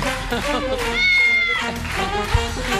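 A woman mimics a kitten's meow, a couple of drawn-out high whining mews standing out amid close talking voices and loud studio background noise.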